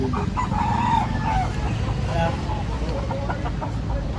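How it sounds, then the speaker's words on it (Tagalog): A rooster crows while chickens cluck nearby at a chicken sale in Lipa, Philippines, with people talking and general bustle in the background. "Ayun, mga manok niya. Mga manok na yan, di ba"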